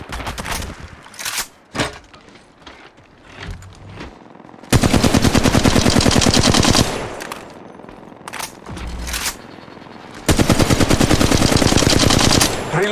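Automatic gunfire from the mobile version of the game Apex Legends, scattered single shots and short bursts at first, then two long, loud sustained volleys of rapid fire with quieter pauses between.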